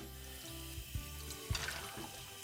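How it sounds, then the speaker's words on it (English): Fresh mussels rinsed under a cold running kitchen tap, a steady close stream of water with a few sharper knocks and splashes as the shells are moved about in the sink. "we're going to wash the mussels under cold,"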